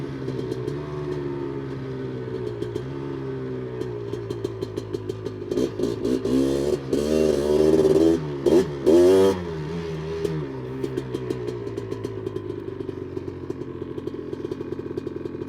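A Honda 250R two-stroke engine running close by, idling with rapid popping, then blipped through several sharp revs that rise and fall before settling back to a rattly, uneven idle.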